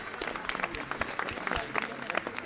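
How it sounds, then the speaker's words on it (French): Scattered outdoor clapping from a crowd during the Fête de l'Escalade in Geneva, greeting a costumed bourgeois militia group, with uneven individual claps and murmuring in the background. "On peut applaudir le groupe de la milice bourgeoise, de Picasso"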